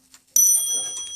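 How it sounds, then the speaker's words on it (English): An antique French four-glass mantel clock strikes on a bell: a single bright ring that starts sharply and then hangs with a sustained, slowly fading tone, close and alone. "They strike the hour, this one does anyway, on a bell"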